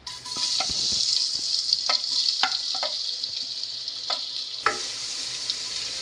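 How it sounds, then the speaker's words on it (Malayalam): Chopped onions frying in hot masala in a pan for chicken biryani, a continuous loud hiss with scraping stirs and clinks of the spoon. "നമുക്കിതിലേക്ക് അരിഞ്ഞ് വെച്ചിരിക്കുന്ന സവാള ഇട്ട് കൊടുക്കാം"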